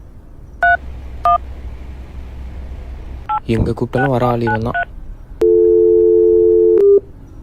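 A telephone is dialled with two separate keypad beeps, a voice talks briefly over more tones, then a long, steady line tone sounds loudly and alone before it cuts off.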